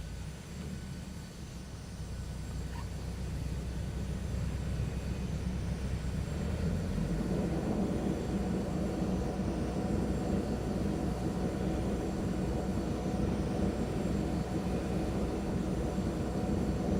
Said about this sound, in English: We're going to start the GPU.